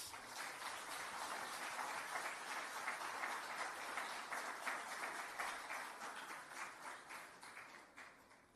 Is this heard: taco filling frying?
no